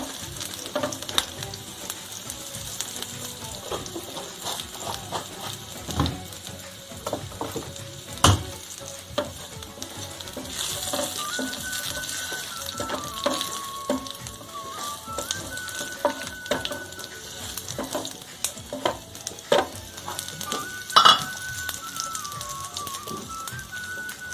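Red chillies and cumin sizzle in hot oil while cooking urad dal, a steady crackling hiss with scattered sharp pops and clinks of stirring throughout.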